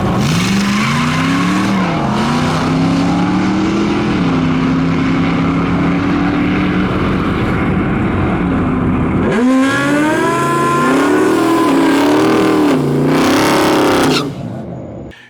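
A Dodge Charger and a Chevy S-10 pickup truck drag race down a track, their engines roaring loudly as they rev and climb through the gears with rising whines, tire noise, and a sharp relaunch partway through.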